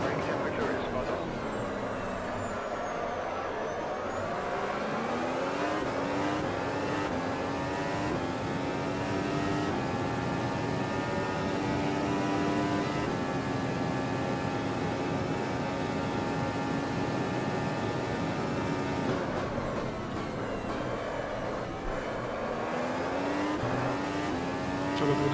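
A Formula 1 car in the Automobilista racing sim, lapping Montreal, screams along at high revs, its engine pitch dropping in steps through repeated downshifts before climbing again, loud and continuous throughout.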